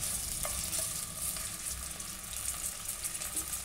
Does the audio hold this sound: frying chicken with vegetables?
yes